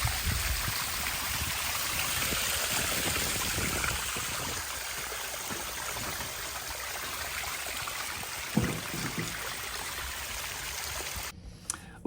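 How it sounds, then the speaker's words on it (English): Water flows steadily down a carved concrete waterfall in a continuous broadband rush with no letup and no talk, and a brief splash sounds near the end. "A very nice waterfall."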